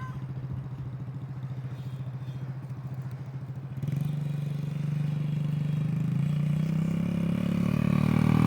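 A 50cc dirt bike engine puttering at a steady low idle, then picking up with a little throttle and holding a louder, smoother drone close by.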